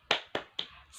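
Three quick sharp hand claps in an even rhythm, close and fairly soft, from a 'tepuk semangat' clapping chant in a classroom lesson.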